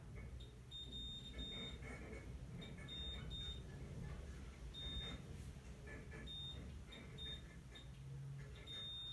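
Short high electronic beeps repeat at irregular intervals over a steady low hum, a multimeter continuity tester chirping briefly several times while checking rear camera wiring connections to ground.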